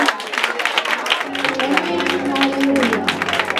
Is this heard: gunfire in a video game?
no